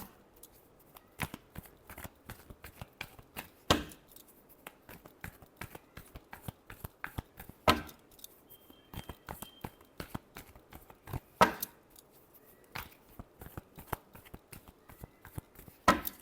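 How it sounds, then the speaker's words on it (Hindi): Tarot cards are shuffled by hand close up: quiet, irregular sharp riffles and snaps, with occasional louder slaps of the deck against a quiet background and no talking. "Last shuffle."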